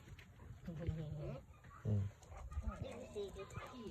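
Chickens and a rooster cluck intermittently nearby among farm animals, their calls mixed in with a person talking over them.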